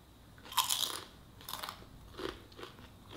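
Crunchy bites into Mexican tacos at close range, several crisp crackling crunches followed by softer chewing, quiet overall and with no talk.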